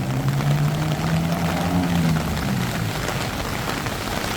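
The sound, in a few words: rain on a Bangkok street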